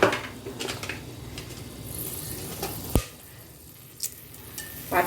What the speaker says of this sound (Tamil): எண்ணெய் நல்லா சூடாயிடுச்சு. இதில் ஒரு 3 லவங்கம்,